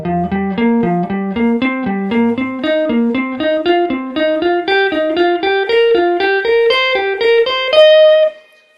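Clean electric guitar climbing a pentatonic scale in looping four-note groups, each note picked evenly at a brisk, steady pace, finishing on a ringing high note that swells then stops, solo with no talking.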